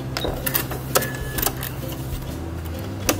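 A sewing machine runs a short back stitch while paper piecing a quilt block, giving a brief mechanical whirring with a few sharp clicks and taps, close and fairly loud over a low hum.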